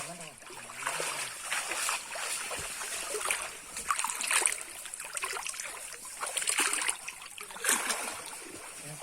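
A stream at Gengavaram Falls near Gingee rushes and splashes in a steady broadband wash, close and fairly loud, with a brief voice near the start.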